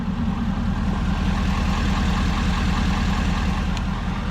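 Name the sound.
2021 Ford F450 Platinum truck engine with Banks air intake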